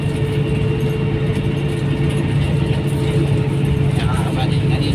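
A motorcycle engine runs close by with a loud, steady, rumbling drone that barely varies over the few seconds.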